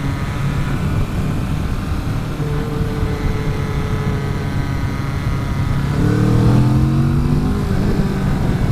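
A 2019 Kawasaki Vulcan S ABS motorcycle on a road test ride, its engine droning steadily under wind rush, then rising in pitch as the rider accelerates through gears near the end; no talk.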